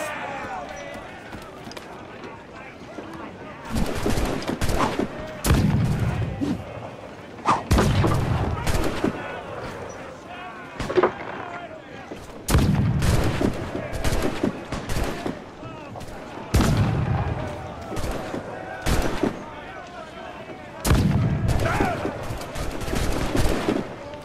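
Ship cannons in an Assassin's Creed 4 naval battle fire in repeated loud booming volleys with rumbling aftermath, spaced through the scene, while voices shout over the fighting.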